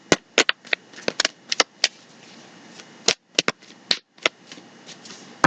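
A deck of tarot cards shuffled by hand, close by: a run of sharp, uneven slaps and riffling clicks over a soft, steady hiss, with brief pauses between bursts.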